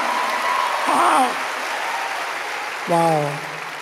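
Steady applause from a church congregation fills the whole stretch, with a couple of brief voices calling out over the clapping.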